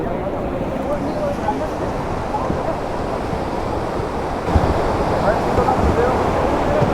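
The Mandakini river rushes near the footbridge on the way to Kedarnath, a loud, steady broadband roar of flowing water that fills the whole stretch without pause.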